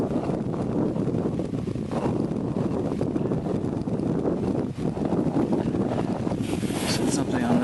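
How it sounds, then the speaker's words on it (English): Heavy wind gusting around a Vienna camp stove, loud continuous buffeting and rumble against the microphone with a faint hissing flame beneath. "We have super heavy winds right now"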